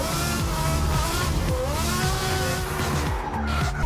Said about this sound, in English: We're drifting Daigo Saito's Lamborghini Murcielago